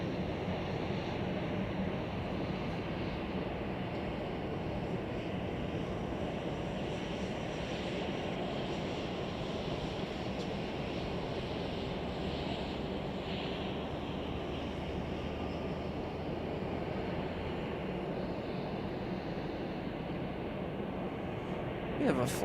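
A Boeing 747 waits at Chicago O'Hare, its engines giving a steady, broad roar that holds evenly throughout, with a low hum underneath and voices faintly present.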